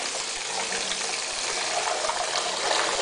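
Bath water running and splashing in a bathtub as a child is bathed, a steady close wash of liquid sound filling the whole stretch with no talk over it.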